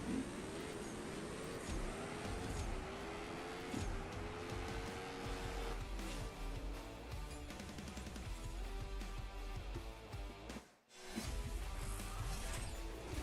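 Racing car in the mobile drag-racing game CSR2 roaring through gears with a nitrous burst, a steady loud engine drone rising in pitch, briefly dropping out near the end before resuming.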